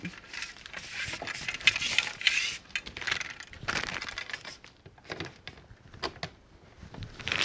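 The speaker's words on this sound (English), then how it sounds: "I'm going to lift that leg up, I'm going to loosen my locking nut" Metal clicks and scraping taps as the locking nut on the leg of a Dometic or Fiamma caravan awning is loosened, irregular close handling knocks with brief pauses between them.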